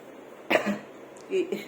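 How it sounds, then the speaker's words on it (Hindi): A woman coughs once, a short harsh burst close to the microphone, followed about a second later by a softer second cough or throat clearing. "आज खांसी बहुत हो गई है"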